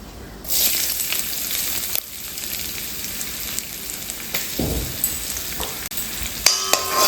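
Finely chopped ginger sizzles loudly in a hot pan, a continuous close frying hiss broken now and then by the scrape of stirring.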